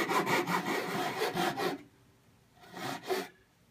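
A hand saw cuts into the wooden lid of a cigar box while building a cigar box guitar, with a quick run of close, rasping back-and-forth strokes, a short pause, then two more strokes.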